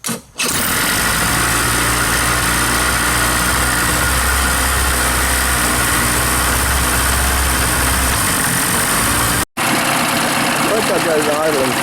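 A 1998 Mercury Force 40 HP outboard motor on a 1997 Bass Tracker Pro 16 idles loudly and steadily up close, with a brief cut near the end before the running sound resumes.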